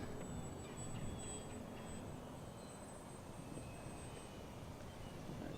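An FMS 1220mm Ranger RC plane drones steadily at a distance as it circles back for a touch-and-go, a constant faint engine whine under broad outdoor wind noise.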